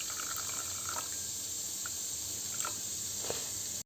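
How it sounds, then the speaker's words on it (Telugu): Water is poured over gond katira in a container to soak, giving a steady hissing pour with a few faint splashes close by, with no talk over it. "ఇప్పుడు వాటర్ పోసుకొని పెట్టేసుకోండి."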